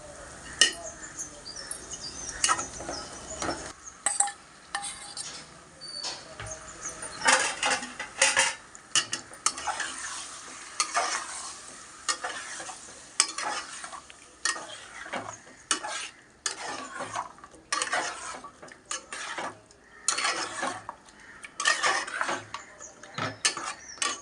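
Sliced onions and cashews fry in a pan, and a metal spoon stirs them with frequent scraping and clinking over a low, quiet sizzle. The strokes come in irregular bursts, with no talking.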